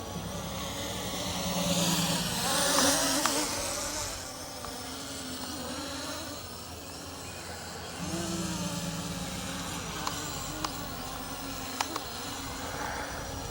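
An LSRC S1S Mini brushless-motor drone flying outdoors in wind. Its buzzing whine swells and dips in pitch and loudness as it moves and tries to hover, with no talking.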